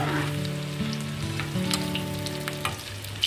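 Ginger browning in hot desi ghee for a mixed dal, a steady close sizzle and crackle with fine spattering pops, no talking over it.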